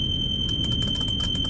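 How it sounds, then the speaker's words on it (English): A train cab warning in the Train Sim World game, heard as a steady high electronic tone with rapid repeated beeps pulsing over a low engine rumble, all close and alone. "I do apologise for the beeping."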